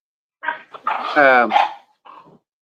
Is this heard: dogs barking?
yes